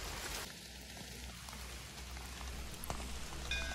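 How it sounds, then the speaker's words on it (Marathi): Monsoon rain falls through the Matheran hill-station forest, a soft, even hiss of drops on leaves that continues steadily throughout, with a faint distant tone briefly underneath. "आजूबाजूला पावसाचा आवाज होता"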